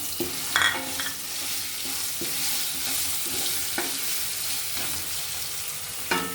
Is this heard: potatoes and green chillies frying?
yes